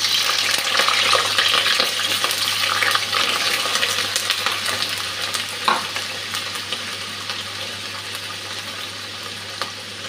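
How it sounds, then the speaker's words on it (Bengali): Potatoes frying in a pan give a steady, close sizzle for several seconds, with an occasional scrape of stirring and no talk. "প্রথমে আলুটা ভেজে নিচ্ছি।"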